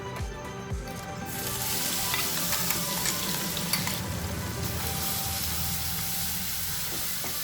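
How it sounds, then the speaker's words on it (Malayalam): Crushed shallots, ginger and garlic fry in coconut oil for a prawn roast, with a bright, continuous sizzle that swells after an initial clatter as they hit the pan, close and steady, no talking. "ഇതിലേക്ക് നമ്മുടെ ചെറിയ ഉള്ളി, ഇഞ്ചി, വെളുത്തുള്ളി ഇതെല്ലാം ചതച്ചെടുത്ത് ഇട്ട് കൊടുക്കാം."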